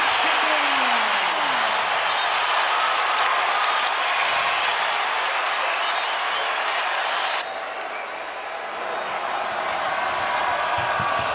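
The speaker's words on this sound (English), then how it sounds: "listen to this crowd" Crowd in a college basketball arena, Creighton against Marquette, roars loudly and steadily, a dense wall of cheering and applause that dips slightly before swelling again.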